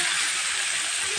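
Red lentils tipped into hot oil with turmeric for a Bengali masoor dal bhuna, giving a loud, steady, bright sizzle and hiss that runs unbroken throughout, with no voices.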